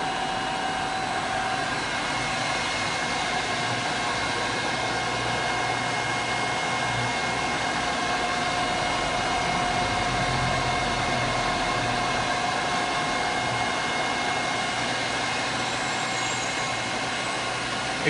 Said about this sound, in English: As you guys can hear, the ball screws are nearly perfect condition. You guys can see the movement of the machine here.